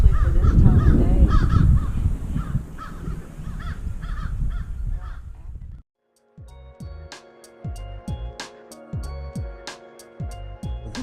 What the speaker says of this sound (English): the birds out here are just incredible